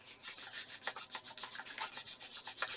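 A folded paper origami star being creased by rubbing, heard as a steady series of soft, rhythmic scraping strokes, close and quiet, with no talk.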